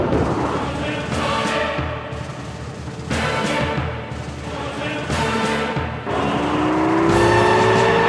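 A Lamborghini Murcielago and a Gallardo racing, their loud engines roaring and surging in repeated pulls, rising in pitch as they rev through the gears close by.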